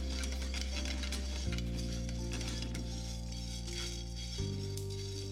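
Whole spices, including black peppercorns, black cardamom and fennel seeds, dry roast in a pan beside chicken, rattling and scraping quietly under steady background music.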